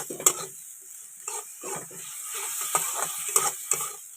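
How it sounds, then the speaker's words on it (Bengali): Spices sizzle in a pan while a spatula scrapes and stirs in short, repeated strokes. "এবারে মশলাটা ভালো করে কষিয়ে নেব একটু ভাজা ভাজা করে নিচ্ছি"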